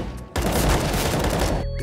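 A burst of rapid video game gunfire rattles continuously and loud for about a second and a half, then cuts off abruptly.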